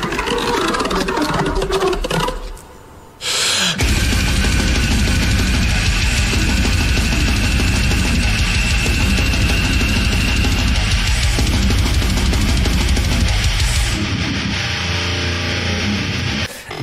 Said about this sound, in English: That's a mean guitar tone